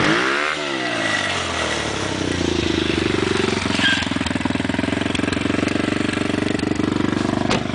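Small cheap motorcycle engine close by, revving briefly at the start, then settling into a steady, loud buzzing idle with a fast even putter that continues to the end.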